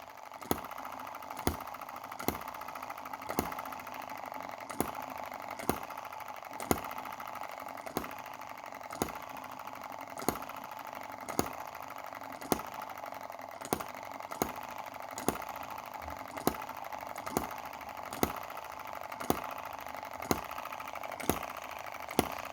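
A tiny Chinese gasoline engine fitted with a valve-operated ignition switch runs steadily, its sharp regular firing ticks about once a second sitting over a continuous mechanical whir, close and moderately quiet.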